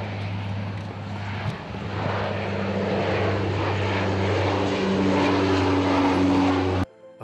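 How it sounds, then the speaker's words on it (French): Propeller airplane engines run loud and steady before takeoff, a close droning hum that swells slightly and then cuts off abruptly near the end. "Les moteurs tournent et le décollage semble imminent."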